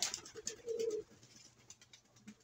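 Fancier pigeons kept for sunning give a close, low throaty coo that swells and fades, then a softer second coo follows amid faint flutters and rustling.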